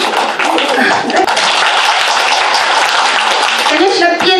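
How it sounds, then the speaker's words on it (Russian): Loud, enthusiastic audience applause fills a hall as a speaker is welcomed onto the stage, a dense, continuous wash of clapping throughout. "Встречайте бурными аплодисментами Джен Минюэр"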